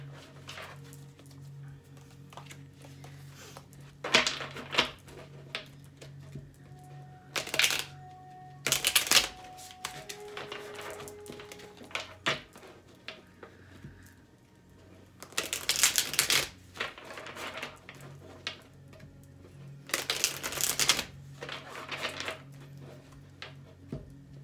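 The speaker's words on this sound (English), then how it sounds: "Do a couple shuffles here." Tarot cards being shuffled in several separate bursts of brisk riffling and flapping, close and fairly loud, with quieter handling noise and a low hum between them.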